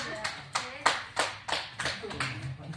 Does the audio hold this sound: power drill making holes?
no